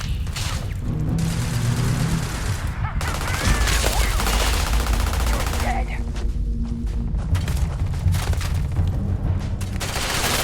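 Dense, continuous gunfire in the game Starfield aimed at the player, loud rattling volleys and booms filling the whole stretch with no letup.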